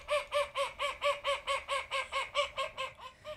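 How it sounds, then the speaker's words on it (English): Urban London duck quacking in a fast, raucous run of about fourteen loud, evenly spaced quacks, close and clear with no talk. "And this one is the urban quacking."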